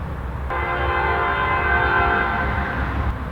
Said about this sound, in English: the train is fucking up my audio